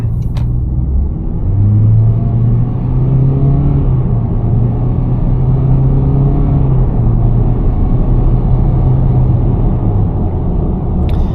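A 2024 Toyota Corolla with a 2.4 liter inline-4 engine accelerates after a turn on a night drive, its loud, steady engine drone rising and holding in pitch, heard from inside the car.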